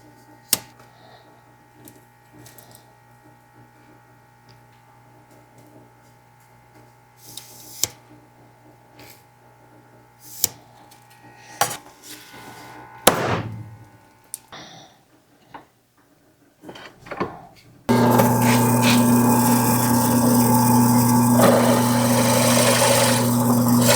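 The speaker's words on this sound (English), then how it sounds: "So we're gonna get center marked on this and then drill it and start shaping." A hand-shaped Amboyna burl knife handle is center-marked with sparse taps and clicks in a quiet workshop, then a power drill bores into it with a loud, steady, sustained whine.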